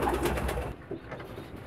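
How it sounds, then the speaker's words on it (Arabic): A male pigeon with a swollen crop coos close by, giving a short, soft, throaty call that tails off quietly. "ده ذكر الحمام يا جماعة"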